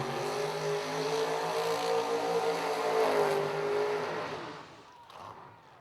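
Ken Kershaw's race car on a brand-new chassis, built by Clayton Murphy, roars loud and steady with a strong droning engine, then fades at the end.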